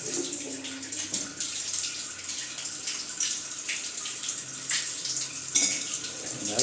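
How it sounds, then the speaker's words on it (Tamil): Water gushes fast from a Parryware wall mixer tap, a steady rushing splash with slight surges, close and continuous and free of speech. "ஸ்பீடாக வருது தண்ணி."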